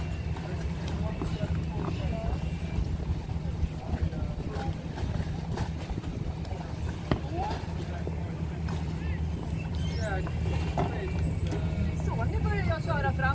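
A boat's engine hums low and steady at slow speed as the vessel eases forward away from a jetty on a spring line, with wind rushing across the microphone throughout.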